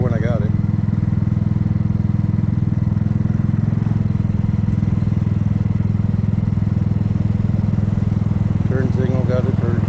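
A Kymco People 250 scooter idling after exhaust leaks were plugged with high-heat JB Weld, a loud steady engine and exhaust drone throughout, close by, with brief voices at the start and end.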